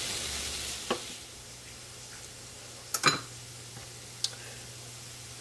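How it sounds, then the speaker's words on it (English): Sausage meat browns quietly in a pan for homemade ravioli, a faint, low sizzle under a few sharp utensil taps and scrapes spaced several seconds apart. "So we're just going to let the sausage meat cook a little bit here, sort of brown it a little"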